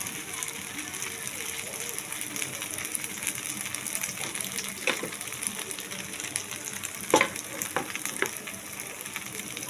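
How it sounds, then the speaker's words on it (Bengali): Oats dosa crisping in oil on a pan gives a soft, continuous sizzle with a few brief clinks and a sharper knock near the end, while someone talks quietly in the background. "দারুণ ভাজতে হবে। দেখুন, লাল লাল ভাজা হবে।"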